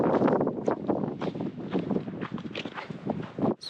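Gusty wind in Joshua Tree National Park during an atmospheric river storm, buffeting the microphone in rough, uneven bursts, loud and close, with a brief dip near the end.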